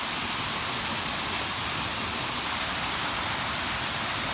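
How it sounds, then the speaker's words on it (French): Small streams and mini waterfalls spill into the Sore river on an autumn hike, making a steady, dense rush of falling water that stays even and continuous throughout. "tous ces petits ruisseaux, toutes ces petites mini-cascades, là, eh ben, elles tombent ici"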